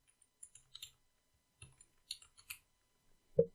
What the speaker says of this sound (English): I'll type that in caps.